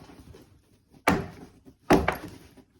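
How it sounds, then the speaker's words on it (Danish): Two solid knocks of objects set down on a table, each a sharp thunk about a second apart, near and clear against a quiet room. "og så banke den stille og roligt ned i bordet."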